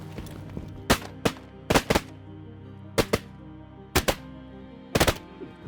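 Shotguns fire at mallards on a November duck hunt in South Dakota, about a dozen sharp, loud blasts in quick pairs and triples against a faint outdoor hum.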